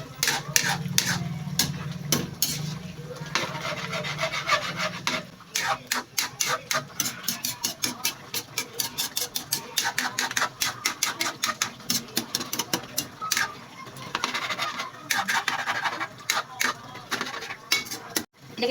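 A utensil stirring chicken curry with pepper and seasoning in a pot, producing a quick, irregular run of scraping and clicking against the metal, close and moderately loud, with no one talking.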